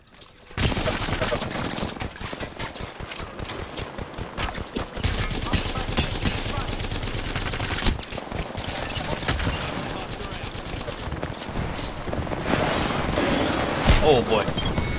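Rapid automatic gunfire from a gun in the shooter game Counter-Strike: Global Offensive, long bursts of sharp close shots repeating almost continuously with only brief pauses.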